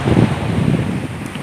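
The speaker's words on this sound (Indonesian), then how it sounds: "Anginnya cukup kencang guys di sini" Strong wind buffets the microphone at a beach in bad weather, a loud continuous rumbling gust throughout with surf-like wash beneath.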